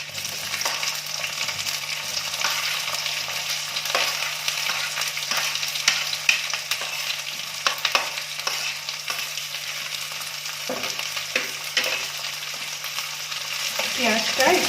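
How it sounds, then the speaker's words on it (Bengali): Three medium chopped onions fry in hot oil in a pan for village-style periwinkle curry, a steady close sizzle broken by occasional scraping stirs. "পেঁয়াজটা একটু ভাজা করে নিতে হবে"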